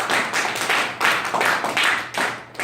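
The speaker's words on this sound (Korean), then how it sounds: "여러분 공감에 가시는 분 박수해" Audience clapping at a Korean leadership lecture, a loud, fairly rhythmic burst of many hands with regular pulses, close and continuous, with no talking over it.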